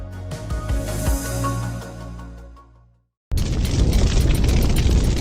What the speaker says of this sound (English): A wall of fire spreads around the epicenter of the impact.